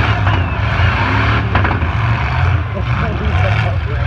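A demolition derby car's engine keeps running amid the wreckage at a stadium, giving a loud, steady low rumble close by, with people talking excitedly over it.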